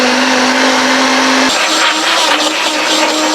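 A blender churns frozen strawberries into a thick smoothie, a loud, steady motor whir that strains and drops in pitch partway through as the icy mixture shifts.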